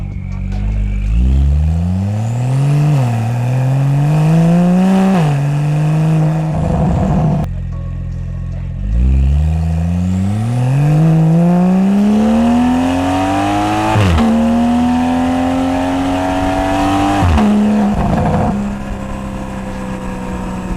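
A tuned Porsche 911 Carrera GTS (992) with an IPE Innotech exhaust revs hard repeatedly, the engine note climbing and dropping in several long sweeps with brief gaps between, very loud and close with no talk.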